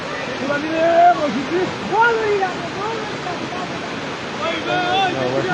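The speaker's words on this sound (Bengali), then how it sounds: "গর্ত দিয়ে রাস্তার নিচ দিয়ে কিন্তু পানি প্রবেশ করছে প্রবল বেগে পানি প্রবেশ করছে" Kushiyara river floodwater rushes forcefully through a gap under a road, a loud continuous roar of moving water heard beneath a voice talking over it.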